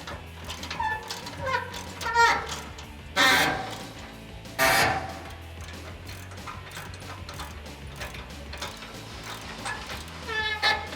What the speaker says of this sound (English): tighten everything up with a 21mm socket